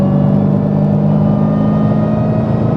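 Engine of a Dodge Hellcat with a manual transmission, revving on a downshift from sixth gear, a steady loud mechanical drone with a faint whine running through it, heard from inside the car.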